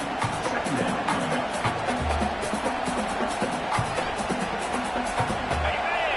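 A stadium crowd in the College Football video game swells into a cheering roar near the red zone, while a commentator talks over it.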